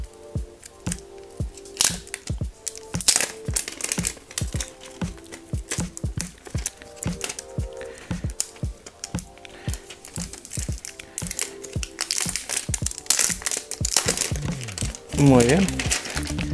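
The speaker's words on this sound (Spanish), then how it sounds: "vamos a sacarlo de la funda de este estuche. Vamos a ver dónde se abre esto. Y esto va a sonar fuerte" Unboxing a Nokia 5.1 Plus phone, with crinkling and crackling packaging plus sharp clicks and rustles as the phone is pulled from its case, busy and close, with a voice talking over parts of it.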